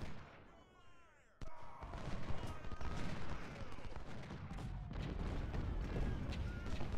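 Musket volleys crackle in the Ultimate General: Civil War video game as troops take fire in the open during the attack on Fort Stevens, a sudden burst of dense gunfire and booms that rolls on steadily beneath a voice.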